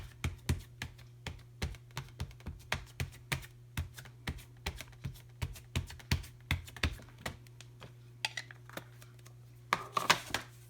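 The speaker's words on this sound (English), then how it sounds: "Just going to ink up the whole side." A VersaMark ink pad dabbed repeatedly onto one whole side of an embossing folder, producing a steady run of close, soft tapping thumps over a low hum, ending in a brief rustling flurry.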